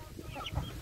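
Bantam chickens give a brief, soft clucking in a small poultry pen, a few quick low clucks over a fraction of a second.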